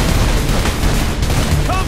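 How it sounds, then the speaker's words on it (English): A giant cannon fires in the video game Saints Row IV, a dense, loud barrage of booming blasts and crackling explosions running continuously through the whole stretch. "We have a giant ass cannon to play with."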